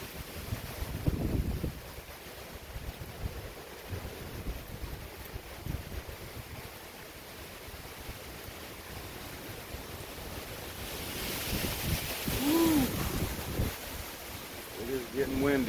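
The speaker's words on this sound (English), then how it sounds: "It is getting windy. We are getting about 70 to 80 mile an hour winds right now." Hurricane Ian winds gusting at roughly 70 to 80 mph, a continuous rushing roar with buffeting against the microphone that swells louder toward the end, alongside faint scattered knocks.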